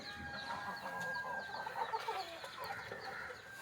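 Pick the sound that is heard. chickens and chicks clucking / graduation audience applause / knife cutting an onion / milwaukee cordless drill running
chickens and chicks clucking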